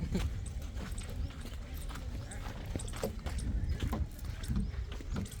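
A horse walks nearby with steady, continuous hoof clip-clops over outdoor background noise, with no talking.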